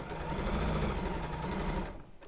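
Sewing machine running steadily as it stitches quilt strips together, a close, continuous whirring motor with rapid needle chatter that stops abruptly near the end.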